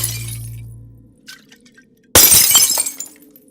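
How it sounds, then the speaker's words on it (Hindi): Glass bottles shatter in a film sound effect from Sholay, where bandits throw bottles down. After a low hum and a few faint ticks, one sudden loud crash is followed by tinkling shards that fade out, with no talking. "वो डाकू लोग कांच की बोतलें डाल देते हैं। तो देखिए किस तरह से वो आवाज़ यूज़ की गई।"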